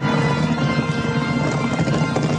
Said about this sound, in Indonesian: mereka pun langsung menaiki kuda dan bergegas pergi dengan penuh ketakutan